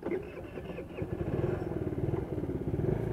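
A 2018 Taotao Pony 50cc moped with a CVT transmission is started with its electric starter: a short crank, then the small engine catches into a steady, close putter. Someone may speak briefly underneath.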